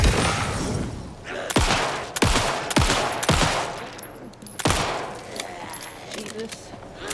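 Several loud, sharp gunshots from the horror game Alan Wake 2 ring out one after another at irregular intervals, each one cracking and then decaying, with ambient game noise between the shots and a person talking.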